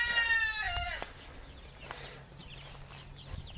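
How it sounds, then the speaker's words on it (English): Young farm chicks peep in high, rapid chirps at the start, then fade to scattered faint calls over quiet outdoor background. "So these are our newest outside chicks"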